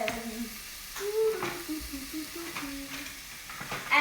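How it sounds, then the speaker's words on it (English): Onions sauté in a pan as they are stirred, with soft sizzling and intermittent scraping strokes at a quiet, close level, and no speech. "we're gonna saute those onions"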